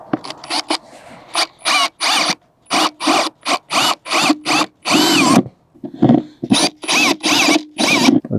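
A power drill boring holes for grommet plugs during a rooftop tent diesel heater install, running in loud, close, repeated short bursts with brief stops between them.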